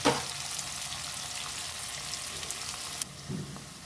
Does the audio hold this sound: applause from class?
no